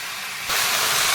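Shrimp with vegetables, turmeric powder and salt hitting a hot pan, a sudden loud steamy hiss that jumps up halfway and holds steady for the rest of the moment, no voices.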